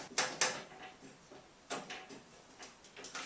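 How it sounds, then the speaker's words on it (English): A Mustang door lock clip being worked loose inside the door, a few sharp plastic clicks and snaps in quick succession, close and fairly quiet against a still background. "I'll move over here to this door lock, which is the upper clip I want to undo"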